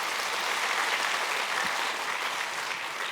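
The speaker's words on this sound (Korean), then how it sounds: "다시 한번 박수 하실까요?" Steady applause from a church congregation, a continuous wash of clapping at moderate volume, fairly even from start to finish with no voices over it.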